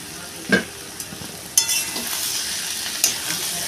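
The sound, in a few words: onions frying in oil for Rui fish head curry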